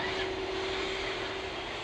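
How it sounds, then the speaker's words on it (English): A Boeing 747 jumbo jet at RAF Mildenhall gives off a steady, loud, broadband engine roar with a faint whine, unbroken for the whole stretch. "we all certainly love to see a Boeing 747 jumbo jet"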